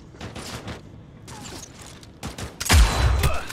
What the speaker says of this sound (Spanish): Utilizaremos este rifle de francotirador.